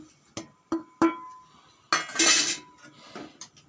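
A metal spoon taps the rim of a pan three times with bright clinks, then scrapes and stirs turmeric, chilli, garam masala and coriander powder into a prawn roast, producing a burst of gritty scraping and a few softer knocks.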